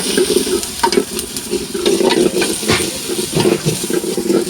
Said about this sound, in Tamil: அதுக்கு வந்து எண்ணெய் வந்து ஊற்றிட்டாங்க கடுகு போடுறாங்க கருவேப்பிலி தலை இஞ்சி பூண்டு கருவேப்பிலை தலை சின்ன வெங்காயம்